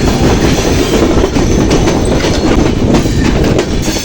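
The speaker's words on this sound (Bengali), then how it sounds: "আমাদের ট্রেনটি আলমডাঙ্গা চুয়াডাঙ্গার দিকে যাচ্ছে। প্রচুর শব্দ।" The Madhumati Express passenger train rolls along the rails, heard from on board as a loud, constant rumble with rhythmic clickety-clack of wheels over rail joints and occasional faint squeal.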